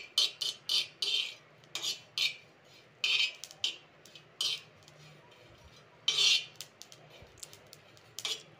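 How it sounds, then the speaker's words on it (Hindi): Ajwain and cumin seeds roast in a pan, giving a run of sharp, irregular crackles and pops that come close and fairly loud, with scraping clatter between them. "इसमें भूनने की आवाज आने लगी है, और ये अजवाइन और जीरा चिटकने लगे हैं।"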